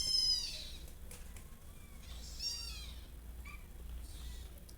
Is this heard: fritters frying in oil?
no